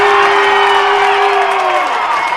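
A basketball crowd at a boys and girls high school game between Mountain View and Pinedale roars with sustained cheering and applause, loud and continuous, with a whistle-like tone sliding downward near the end.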